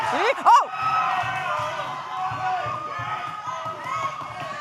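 A wrestling crowd cheers and roars at an indoor event, a steady mass of voices with whoops, while a commentator's voice shouts over it.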